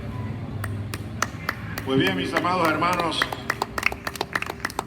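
A church congregation claps in steady rhythm during a Spanish-language worship service, sharp hand claps repeating evenly while a preacher speaks over them.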